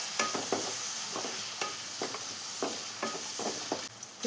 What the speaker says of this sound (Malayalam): ഇനി തക്കാളിയുടെ റോസ്മെൽ മാറുന്ന വരെ നമുക്കൊന്നത് വേവിച്ചെടുക്കണം.